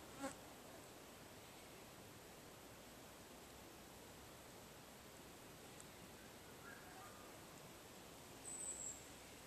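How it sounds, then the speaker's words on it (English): Flying bugs buzzing around, a faint, steady insect drone under a constant hiss of background noise, with one brief closer buzz passing near the end. "Here, bugs flying around you, start."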